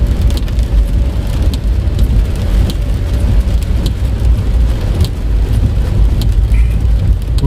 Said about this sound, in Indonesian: Hujan tapi nggak begitu deras guys di sini guys.